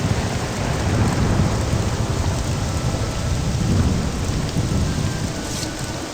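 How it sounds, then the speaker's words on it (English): A video game thunderstorm with steady heavy rain hissing and low rolling thunder rumbling continuously, loud and close, with no talk. "I didn't need this storm."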